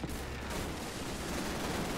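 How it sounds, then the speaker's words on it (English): Sustained machine gun fire in the Call of Duty 3 video game, a dense, continuous roar of rapid shots and battle noise filling the whole stretch with no pauses. "Press LB to shoot your machine gun."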